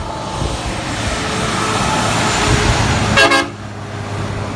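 A toy school bus horn gives a single brief toot over steady hissing background noise, close by with no voices.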